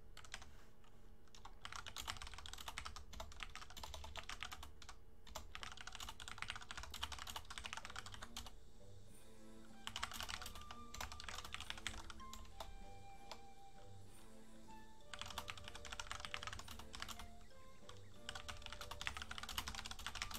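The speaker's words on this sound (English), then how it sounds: "Typing in the Discord." Bursts of rapid keyboard typing on a computer keyboard, close and steady, in several runs separated by short pauses, with quiet background game audio underneath.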